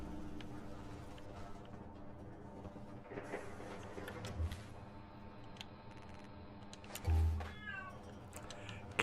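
A cat meows in the Fallout 4 settlement-building game, giving a few short, fairly faint calls over a low steady background hum.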